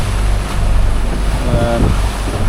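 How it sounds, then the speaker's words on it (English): A sailboat reefed down in rough weather at sea, with loud wind buffeting and waves washing against the hull, and a low drone underneath consistent with the engine running. "the engine's going at the moment because it's all over the place"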